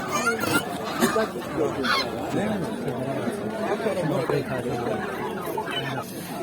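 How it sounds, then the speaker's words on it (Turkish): A crowd of Cayuga and black ducks at a poultry market in Sabunchu, Azerbaijan quacks and chatters continuously at close range while people talk nearby over the busy noise. "Bunlar e, kara siyah ördekler, Arap ördekler. Kayuga. Alman ördekleri."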